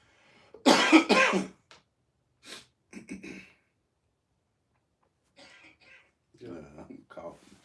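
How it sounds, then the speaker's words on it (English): A few short, harsh coughs and throat-clearing bursts, close by, with brief pauses between and quieter muffled voices afterward. "I'm coughing"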